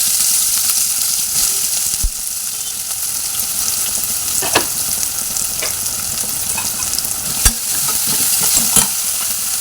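Green chillies fry in a pan with a loud, constant sizzling hiss, broken by a few sharp clacks and scrapes of stirring; no voices are heard.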